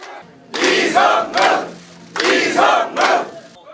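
A crowd erupts in cheers at an election campaign office the moment an education superintendent's re-election in Jeju is confirmed, loud whooping and shouting in repeated surging bursts.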